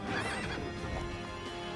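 A horse whinnies in the video game Child of Light, a short, close neigh with hoof clops beneath it.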